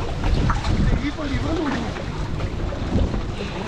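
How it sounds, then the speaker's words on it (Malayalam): Strong wind buffets a fishing boat out on the Arabian Sea, a constant rough rushing noise with gusty fluctuations while a voice talks faintly underneath. "നല്ലപോലെ കാറ്റ് വന്നിട്ടുണ്ട്"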